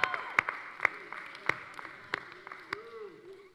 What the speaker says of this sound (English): if you're excited for school to start back, just make some noise. Clap your hands.